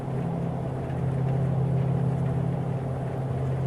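Twin engines of a Carenado PA34T Seneca V in Microsoft Flight Simulator drone steadily through an instrument flight in stormy conditions, a continuous low hum with a strong fixed tone that holds level throughout, no talk.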